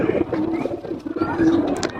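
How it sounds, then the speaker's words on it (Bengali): A female pigeon gives soft, low, throaty coos close by, with faint background noise. "এটা মাদি কবুতর"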